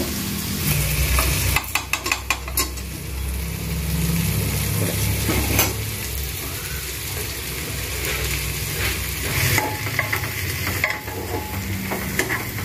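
Ghee and green chili paste sizzle in a pan for mutton curry, with a steady frying hiss and repeated scraping clicks of a spoon stirring throughout.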